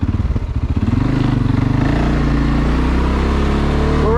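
2022 CFMOTO CFORCE 600 ATV engine while riding at Jericho State Park in New Hampshire, a loud, close, throbbing rumble that rises as the machine accelerates and then holds a steady drone.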